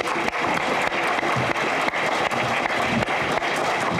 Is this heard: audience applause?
yes